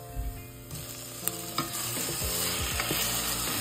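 Tomatoes frying in a pan as a Filipino dish is stirred, a steady sizzle broken by several scraping utensil strokes and clicks, close and alone with no voices.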